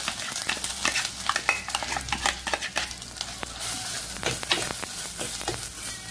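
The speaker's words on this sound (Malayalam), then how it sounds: "ഈ ഇഞ്ചി നമ്മൾ ഇതിനകത്തിട്ട് മൂപ്പിക്കണം." Ginger sizzling in hot oil inside a clay pot for ginger curry, a dense crackling fry with scattered pops and occasional stirring scrapes, steady and close with no talking.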